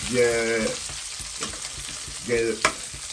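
Onions frying in a pan for rougail morue, a salt cod dish, give a brief close sizzle broken by stirring scrapes, with a couple of short vocal-like tones mixed in.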